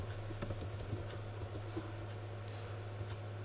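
Quick, irregular clicks of keys on a computer keyboard, tapped in short bursts against a steady low electrical hum in a quiet room.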